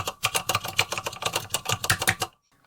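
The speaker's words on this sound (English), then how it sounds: "let's try listening to this keyboard" Rapid, clattering keystrokes on a computer keyboard, close and steady for about two seconds, then stopping abruptly into near silence.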